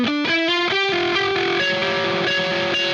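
Distorted electric guitar plays the Incubus "Rogues" riff, a run of quick picked notes with string skips that settles into sustained ringing tones, loud and close with an effects-laden tone and no talking.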